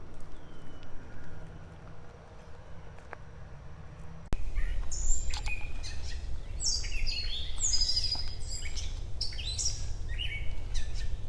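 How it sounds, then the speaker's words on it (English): Birds chirp and sing in bright, overlapping calls along a stream trail in Bushkill Township, starting faint and becoming a busy chorus after a sudden louder shift, with steady background noise. "Listen to those pretty bird sounds."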